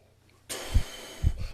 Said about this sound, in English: We're still having the inhales here.